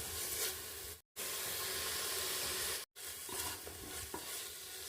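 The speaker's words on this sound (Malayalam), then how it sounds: "സ്വല്പം മല്ലിയില ചേർക്കുക ഇത് നന്നായി ഒന്ന് ഇളക്കിയെടുക്കുക" Coriander leaves being stirred into a biryani masala in a hot pan, a steady sizzle and scraping stir running throughout, close and fairly loud, broken by two brief silent gaps.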